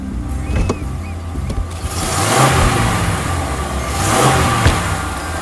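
An engine revving just after being started, loud and close, with rising surges of throttle over a steady idle rumble and no speech.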